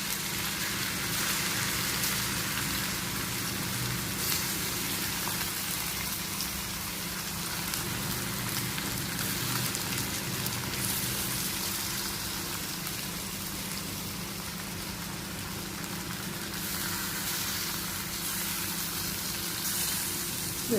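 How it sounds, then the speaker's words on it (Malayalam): Chicken pieces coated in chili powder and garam masala fry in hot oil with a steady, dense sizzle and crackle, sustained and fairly close, with no talking over it. "ജസ്റ്റ് ഒന്ന് വറുത്തെടുക്കുന്നുണ്ട്."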